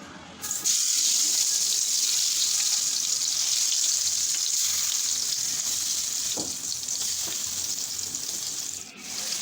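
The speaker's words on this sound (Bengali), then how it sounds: "মাছগুলোকে ভালোভাবে উল্টে পাল্টে" Small puti fish fry in hot oil for a village-style bhuna, giving a loud, continuous hiss of sizzling that holds steady and ends with a brief clink.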